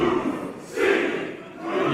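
Wrestling fans cheer for Alberto El Patron during his match against Johnny Mundo, a roaring arena crowd whose chants swell and dip over a couple of seconds, loud and reverberant.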